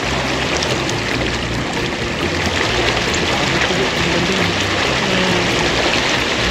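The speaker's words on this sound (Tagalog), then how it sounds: "nakikita ko na ang tubig ay medyo malakas ang agos" A strong water current rushes around a moving boat near an island, giving a loud, steady wash of flowing and splashing water over a low motor rumble.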